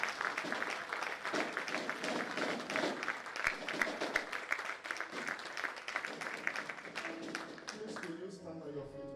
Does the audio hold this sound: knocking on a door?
no